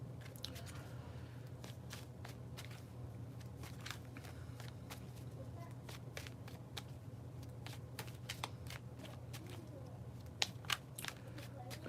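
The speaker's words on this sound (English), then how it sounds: "when I do the bridge shuffle" Tarot cards riffled in a bridge shuffle during a reading, a faint, steady crackle of flicking card edges with scattered sharper snaps, recorded quietly and close.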